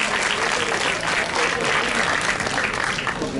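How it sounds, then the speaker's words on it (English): An audience at a school Model UN closing ceremony gives a guest a sustained, dense round of clapping, loud and even throughout with no pauses. "Can we have a huge round of applause for sir?"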